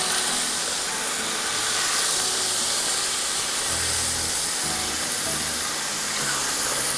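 Chicken pieces fry for chicken biryani, giving a loud, close, continuous hiss that holds steady throughout with no speech.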